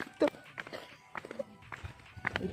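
Footsteps near tents beside a swimming pool at Pawna Lake come as an uneven run of soft thuds. A voice mimics the stepping rhythm over and between them.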